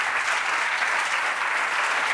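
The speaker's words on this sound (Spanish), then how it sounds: "Un aplauso para Paula, que te ha salvado" Studio audience of a Spanish late-night talk show applauding for a guest, a dense, steady wash of many clapping hands, loud and close, with no voices heard over it.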